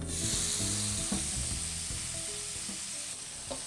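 Steaks pan roasting under a lid sizzle and crackle loudly and continuously, with a dense hiss and scattered pops throughout the short stretch.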